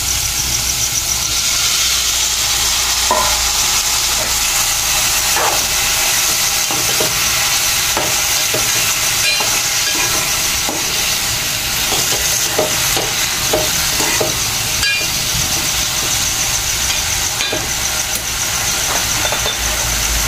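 Boiled vegetables are stirred in a hot pan, producing a steady sizzle with scattered scraping and clinking spoon sounds, close and continuous with no talking.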